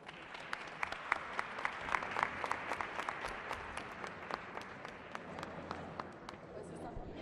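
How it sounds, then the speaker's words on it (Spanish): An audience at a public hearing in a legislative chamber gives steady applause, with clear individual claps standing out over a softer crowd of clapping that continues evenly for about seven seconds at moderate distance. "Agradecemos la presencia del Presidium con un fuerte aplauso."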